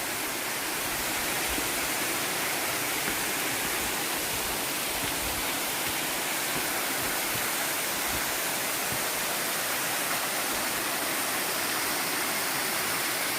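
Kuzalan Waterfall in Giresun, Turkey, roars steadily and loudly, a dense, unbroken wash of falling water with no voices over it.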